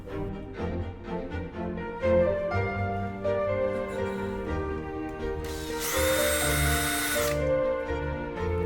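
A power drill bores a 3.5mm hole in a door frame to locate a magnetic catch on an aluminium bi-fold door, its motor whining steadily with a brief louder high-pitched burst near the end, close and alone.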